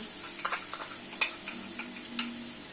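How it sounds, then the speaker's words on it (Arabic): Crushed garlic goes into a pan of yogurt sauce for Aleppo-style laban with bulgur, giving a soft, steady sizzle with a few faint clicks and taps of a utensil. "رح انزل هون الثوم المهروس"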